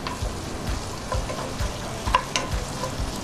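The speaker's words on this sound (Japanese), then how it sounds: "中火程度で炒めていきます" Garlic and meat stir-fry over medium heat for borscht, a steady close sizzle with scattered spatula scrapes and light clinks throughout, no voices.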